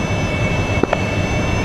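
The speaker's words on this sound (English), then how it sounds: "These Harriers are mad for ground attack." Harrier jet aircraft in a DCS combat flight simulation, with a steady, loud engine roar and whine held throughout, plus a couple of brief faint clicks.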